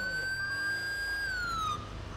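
Emergency vehicle sirens wail in a GTA 5 police roleplay street scene, a loud, close, steady tone that drifts slowly downward with no talk over it.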